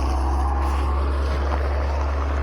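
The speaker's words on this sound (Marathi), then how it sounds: "ट्रॅक्टर चाललाय तिकडून" A tractor engine runs nearby in a steady low drone at moderate volume, continuous, even and unbroken, with no voices.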